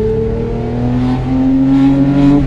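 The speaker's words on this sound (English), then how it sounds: "Even when you're not driving fast, you just rev it out." A Porsche 911 GT3 engine revving close up, a loud steady drone whose pitch climbs as it revs out, without talk.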